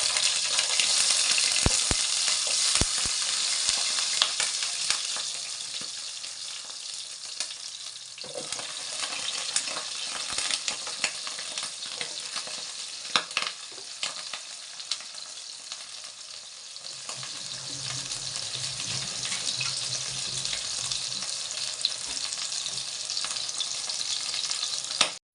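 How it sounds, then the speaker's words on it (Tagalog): Eggplant frying in hot oil in a pan gives a loud, steady, hissing sizzle that lasts throughout, with scattered crackles and a few brief low knocks, and no voices. "Atin nang iprito ang talong."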